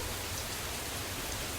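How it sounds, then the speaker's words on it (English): Rain falls on the ground in a video game, a dense, even wash of hiss that fills the short stretch with no voices. "all there is to hear is the rhythm of rain hitting the earth"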